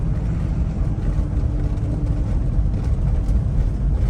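A 1969 Plymouth GTX with a Hemi engine and stock exhaust, heard from inside while driving, gives a steady, low, muffled rumble that stays even and fairly quiet throughout.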